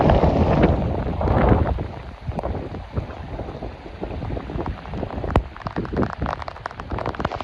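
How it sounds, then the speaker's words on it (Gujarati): Continuous heavy rain that has poured for about 36 hours, a dense, loud outdoor roar with gusty rumble and scattered sharp drips, steady throughout with no talk. "આ લગભગ 36 કલાકથી 1 ને 1 ધારો વરસાદ ચાલુ છે"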